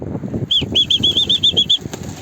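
A burst of rapid wing flapping as a pigeon with damaged wings takes off, a quick fluttering rhythm close by over quiet background rustle, lasting about a second and a half.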